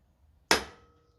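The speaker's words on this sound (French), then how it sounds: "je vais mettre un petit coup de maillet dessus là avec une douille pour le bloquer" A small mallet gives a single sharp tap to a socket, knocking a stator into place on a Booster 70 mk2 scooter engine, a crisp metallic knock with a short ringing decay, heard alone and close.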